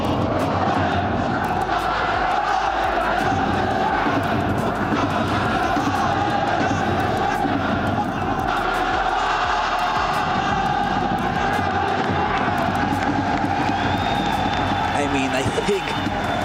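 A large esports arena crowd at the FC Pro World Championship cheers and sings along together, a loud, dense roar with chanting voices filling the space and a commentator talking over it.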